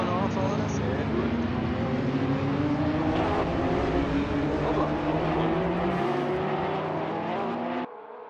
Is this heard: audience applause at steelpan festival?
no